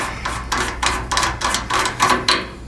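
A tuba valve cap is unscrewed by hand, giving a series of about eight short metallic scraping, ratcheting bursts in an uneven rhythm, close and fairly loud, with no voice.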